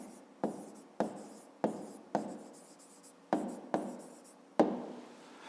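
Pen or pencil writing an answer on paper in a math exercise, seven short scratchy strokes at an even pace, close and clear, with no voices.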